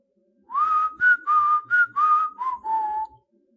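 A person whistles in imitation of a lizard's call: a close, clear run of about seven short melodic notes, each gliding slightly, with no other sound around it.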